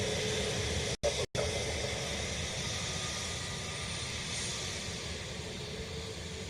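Steady broadband jet roar of a Ryanair airliner arriving from Liverpool at Dublin Airport, heard from outside, continuous and fairly loud apart from two brief dropouts near the start.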